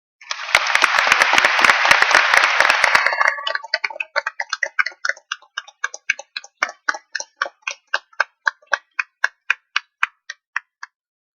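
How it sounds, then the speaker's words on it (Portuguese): A lecture audience applauds loudly for former São Paulo mayor and ex-education minister Fernando Haddad. The dense clapping lasts about three seconds, then thins into a few scattered, evenly spaced claps that fade out. "por favor, uma salva de palmas para o professor"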